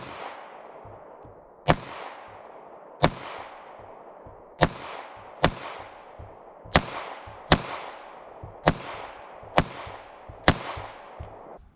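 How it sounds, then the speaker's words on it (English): A Bul Armory SAS II ultralight compact pistol fires 115 grain rounds, nine sharp gunshots spaced a second or so apart, each a crisp loud crack with a short decaying echo over a quiet outdoor background. "Let's take a few more shots with it here."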